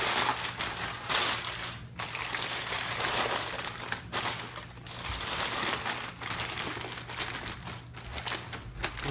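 Wagyu corned beef being wrapped like a brisket, with close, loud crinkling and rustling of wrapping material coming in irregular bursts and short pauses, and no talking.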